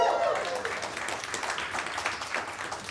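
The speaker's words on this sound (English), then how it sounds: "I don't understand why you're clapping." Audience in a comedy club claps, a steady patter of many hands, fairly close and continuous, with talking over it.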